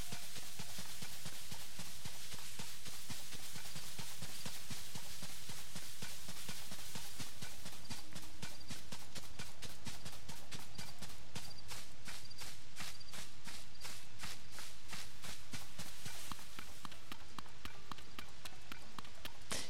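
A horse gallops in the video game The Legend of Zelda: Tears of the Kingdom, its hooves drumming in a fast, steady clip-clop that quickens midway and stays loud and close, over soft game ambience.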